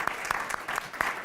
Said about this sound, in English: So if I could just ask for a round of applause for the people that helped put this out.